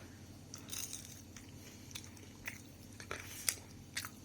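Someone biting and chewing fried ivory banana fries, quiet close crunches and chewing spread over a few seconds, with a few sharper bites standing out against a low background hum.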